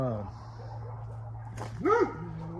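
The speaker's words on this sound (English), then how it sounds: "there's always a dog barking" A single dog bark rises briefly under a person's ongoing talk, short and moderately distant.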